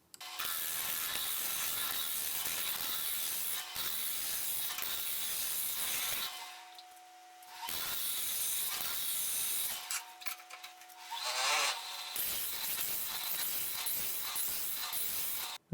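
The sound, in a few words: wood lathe turning down a wormholed blank, sped up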